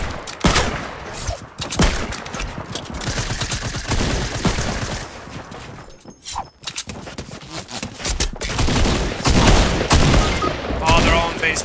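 Continuous, loud minigun fire in a shooter video game, a dense sustained roar with a short break midway before it resumes, mixed with other combat noise.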